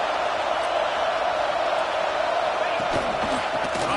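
Stadium crowd at a Georgia versus LSU college football game: a dense, loud, continuous roar of cheering and yelling that holds steady throughout, with a commentator's voice faintly mixed in.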